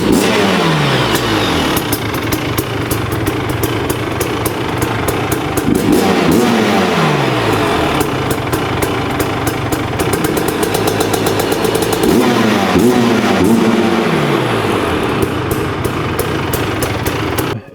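A fuel-injected, electric-start two-stroke Yamaha YFZ engine runs loud and close, holding a raspy high idle and rising in repeated revs that sweep up and fall back.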